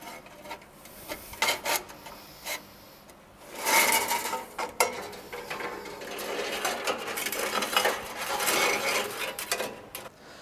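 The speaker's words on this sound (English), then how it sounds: "All we need to do is just feed the blade through the slot on the front guard and through the slot on the machine bed." A bandsaw blade is fed through the slots in the front guard and machine bed, producing close metallic scraping, rubbing and light clinking that builds into longer rasping passes.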